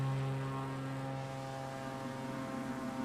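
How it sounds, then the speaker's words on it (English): Planes drone past in Microsoft Flight Simulator 2024 multiplayer, a steady propeller and engine hum with a slow swell, moderate in level and with no talk over it. "I like the way it sounds with all the planes going by and all that"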